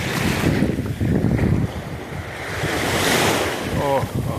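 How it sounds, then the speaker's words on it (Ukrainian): Sea waves of the Kirinske Sea wash and surge close by under gusty wind buffeting the microphone, with a brief voice near the end. "Синє море."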